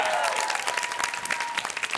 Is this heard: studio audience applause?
yes